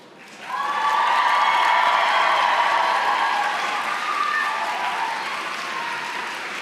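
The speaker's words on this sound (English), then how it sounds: "I invite you, the members of the graduating class, to reciprocate by applauding your family, friends, faculty and staff" Graduating class at an SFU convocation ceremony applauding families, friends, faculty and staff, a large hall of clapping swelling quickly and holding loud and steady, with faint cheering and whoops riding on top.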